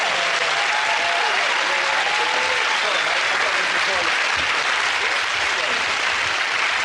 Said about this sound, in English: give it a round of applause to the great Joe and Andy!